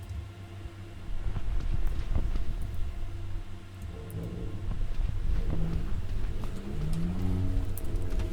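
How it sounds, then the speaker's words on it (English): A loud car engine rumbles close by, a steady low roar that swells and surges over several seconds with no voices. "Nice loud car engine to spoil the immersion."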